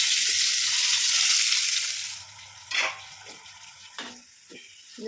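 Pressure-cooked pieces fry slowly in a pan over low heat, a loud steady sizzle that fades after a couple of seconds, followed by a few scraping stirs, close by with no talk.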